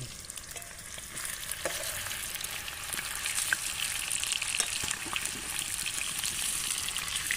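Potatoes with turmeric frying in a pan at an outdoor picnic cookout, a continuous close sizzle with occasional stirring scrapes, loud and steady with no talk.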